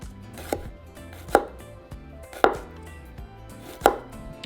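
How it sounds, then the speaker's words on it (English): A knife chops serrano and habanero chiles into small circles on a cutting board, four sharp, spaced thuds with a faint background hum and no talking. "So just cut into small little circles."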